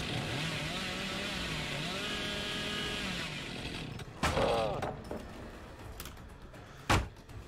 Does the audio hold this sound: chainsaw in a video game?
yes